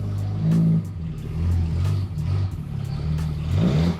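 A Mercedes car drives and revs its engine, a steady low rumble with several swelling revs over a few seconds, close and fairly loud.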